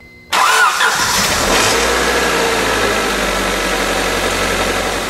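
A rebuilt car engine, fitted with a new water pump, cranks and catches abruptly, then settles into a steady, loud idle that runs on with no talking.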